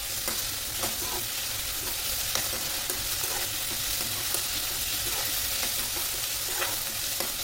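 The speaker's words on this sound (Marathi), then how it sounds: "तर आपण कांदा फ्राय करून घेऊया थोडा लसूणसोबत" Chopped onion frying with garlic in a hot pan on a gas stove, a steady close sizzle with occasional stirring scrapes, no voices.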